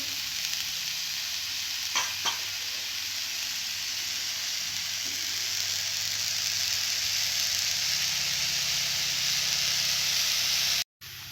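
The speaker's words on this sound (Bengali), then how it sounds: "কিছুক্ষণের জন্য আমি ভাজতে থাকবো" Semolina dough frying in oil in a pan, a steady loud sizzle running throughout with a couple of brief stirring scrapes near the start.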